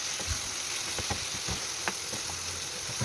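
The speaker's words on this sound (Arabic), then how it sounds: "هقلب بقى زي ما انتم شايفين كده لحد ما احس ان الكبده بتاعتي كده اللون بتاعها اتغير وبدات تدخل على تسويه" Liver frying in a grill pan, with a steady close sizzle under scattered knocks and scrapes from the pieces being flipped and shifted, no voices.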